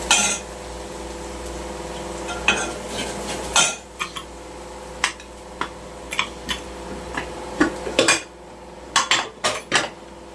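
Chutney roasted in oil in a pan, stirred with a metal spoon: irregular clinks and scrapes against the pan, some louder knocks, over a faint background sizzle, close and without speech.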